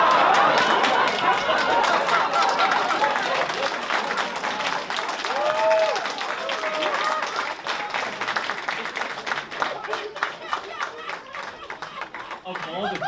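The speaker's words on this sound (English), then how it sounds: "Of all the things to applaud" Audience applause at a comedy open mic, a dense patter of clapping that runs the whole stretch and slowly thins, with scattered voices and a laugh mixed in.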